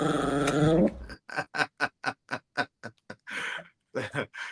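A small female dog gives a whining growl, then a rapid string of sharp, close barks and yips with brief gaps, loud and clear.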